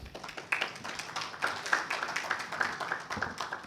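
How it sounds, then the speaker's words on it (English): Audience clapping at a corporate panel session on white collar crime and corporate fraud, a fairly faint, steady patter of hands with scattered sharper claps throughout, no voices over it. "Please give a huge round of applause"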